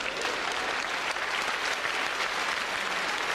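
An audience at a stand-up comedy show breaks into loud, dense applause, a steady wash of many hands clapping that fills the whole stretch without letting up.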